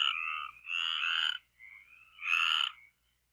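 Frogs croak in rain-cooled countryside, three loud, close bursts of rapid rasping calls with short gaps between, and no other sound around them.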